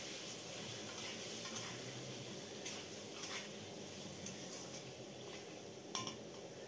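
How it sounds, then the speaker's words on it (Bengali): Potatoes with salt and turmeric frying in oil left from frying Shankar fish: a faint, steady sizzle with occasional soft scrapes and clinks of stirring in the pan. "আলুটা দিয়ে ওর মধ্যে একটু নুন আর একটু হলুদ দিয়ে ভালো করে আলুটা লাল লাল করে ভেজে নেব"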